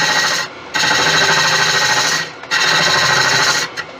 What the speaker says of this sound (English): what I'm going to do is I'm going to start back hollowing